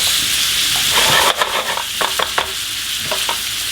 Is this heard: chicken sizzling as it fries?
yes